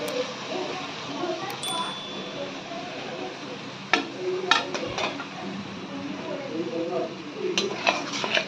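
Prawns coated in salt and turmeric go into a pan of cooked spice paste for a coconut prawn dish, giving a soft low sizzle under clinking utensil and pan knocks, with sharper metallic taps near the middle and end.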